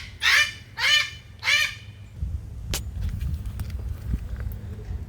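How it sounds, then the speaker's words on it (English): A bird honks like a goose three times in quick succession, loud and close, before the calls stop and give way to quieter shuffling and handling noises. "Sorry, bird yelling."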